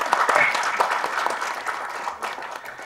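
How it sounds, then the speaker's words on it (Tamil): Audience applause fills a movie press meet for the Tamil film Bhooloham, a dense, steady wash of many hands clapping close by that tapers slightly toward the end. "நல்ல ஒரு கரகோஷம் கொடுங்க சாருக்கு."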